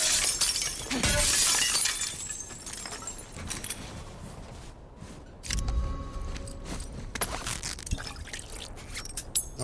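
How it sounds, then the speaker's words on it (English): Glass shattering in The Last of Us Part 2, a loud crash of breaking glass followed by tinkling shards falling and scattering, then a second burst of breakage later on, with no talk. "More glass to break."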